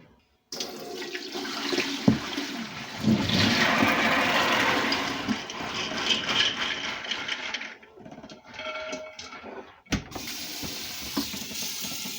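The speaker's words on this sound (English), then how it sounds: "I'm going to put fresh water in this pan" Fresh water runs into a cooking pan, a steady close splash and rush of tap water filling it for dry beans to be pressure canned, with a brief break near the end before flowing again.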